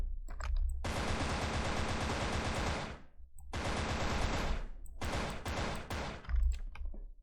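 Automatic weapon fire in the online shooter game Wolfteam, loud close bursts of rapid shots, a long sustained burst followed by several shorter ones with brief gaps between them.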